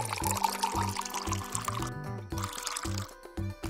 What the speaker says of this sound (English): Pour water over the wrap.